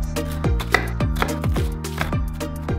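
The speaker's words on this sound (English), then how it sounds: "So I'm gonna cut these up into small ones." A kitchen knife chops garlic into small pieces on a cutting board, striking in a steady rhythm of sharp, close taps over continuous background music.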